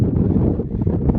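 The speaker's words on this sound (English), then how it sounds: "It's too windy up here" Strong gusting wind buffets the microphone high on a Sierra Nevada mountain pass in Kings Canyon, a steady low roar with rising and falling surges throughout.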